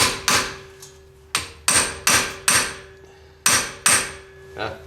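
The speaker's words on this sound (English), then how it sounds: "so you might need to hammer your screwdriver in." Screwdriver hammered into a stuck brake rotor screw: about eight sharp metallic strikes in uneven rhythm, close and loud, each with a brief ringing decay.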